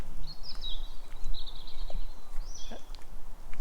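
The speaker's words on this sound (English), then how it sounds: "The bird's song is really beautiful right now." Forest birdsong: a few thin, high whistled phrases rising and falling at moderate distance, echoing over a steady low rumble of background noise.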